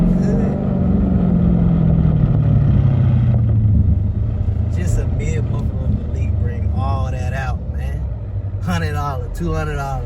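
Lamborghini Urus with a mid muffler delete, its exhaust droning loud and close with a falling engine note, then rumbling on under people talking.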